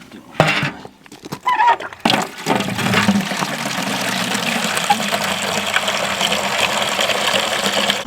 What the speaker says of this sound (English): It's only a garden spigot, but it's enough for right now.